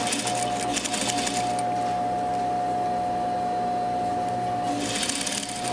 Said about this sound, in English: So now we want to back stitch, but you want to stitch right next to the stitch or right on top of the stitch.